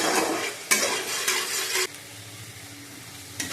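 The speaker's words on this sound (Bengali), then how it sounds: "নুন হলুদ আর একটু কাশ্মীরি লঙ্কা গুঁড়ো দিয়ে মশলাটাকে আমি ভালো করে কষিয়ে নেব" A spice paste of onion, ginger, cumin and dried chili with salt, turmeric and Kashmiri chili powder sizzles steadily in a pan, with a few louder scraping stirs breaking through the close frying hiss.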